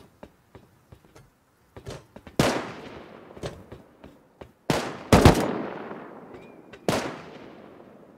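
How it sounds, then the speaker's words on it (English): A bolt-action rifle fires in an online shooter game: several sharp, loud cracks spaced seconds apart, each with a ringing tail, among fainter distant pops and no talk. "Somebody's shooting at him with a bolty"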